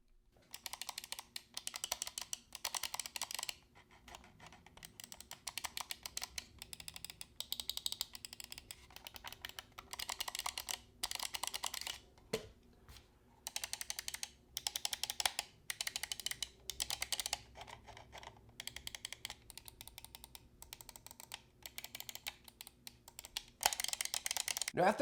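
Glorious Model O 2 Pro and Model D 2 Pro gaming mice with optical switches click in rapid irregular clusters of sharp, close clicks over about twenty-five seconds, with brief gaps between bursts.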